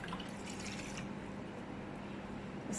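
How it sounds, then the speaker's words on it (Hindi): A cup of water is poured into a pot to make a sweet-and-sour chutney of dried plums and tamarind, a steady splashing, trickling stream, close and continuous for a few seconds. "चटनी बनाने के लिए मैंने 1 कप पानी इसमें डालने लगी हूँ।"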